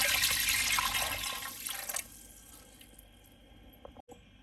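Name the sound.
pouring pearl millet flour batter into a clay pot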